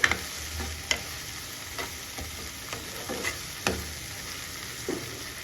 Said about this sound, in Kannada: ಸ್ವಲ್ಪ ಚೆನ್ನಾಗಿ ಎಣ್ಣೆಯಲ್ಲಿ ಫ್ರೈ ಆಗಿ